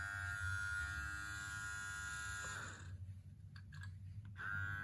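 Quiet cordless dog clippers hum steadily on a Standard Poodle, with a few soft clicks and a brief change in tone partway through as guide combs alter the sound.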